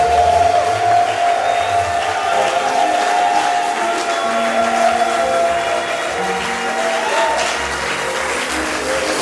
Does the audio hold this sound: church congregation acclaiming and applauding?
yes